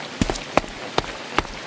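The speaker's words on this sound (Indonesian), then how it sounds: "Sudah mulai hujan." Rain falls in the video game A Space for the Unbound, heard as a soft, steady hiss broken by four evenly spaced, distinct drop-like taps.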